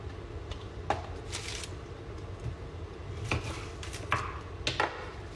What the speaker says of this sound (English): slice an onion